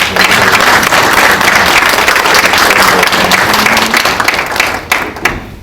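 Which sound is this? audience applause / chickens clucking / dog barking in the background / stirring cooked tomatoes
audience applause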